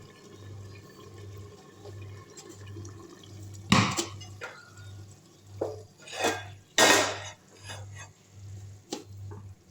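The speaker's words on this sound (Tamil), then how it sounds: "இப்போ இதில் அப்படியே மூடிட்டு இந்த தவாவை தூக்கி அடியில் வச்சிடலாம்." A metal tawa griddle clanks as it is lifted and set under a covered pot of crab biryani, giving a few scattered scrapes and knocks over a steady pulsing stove hum, with no talking.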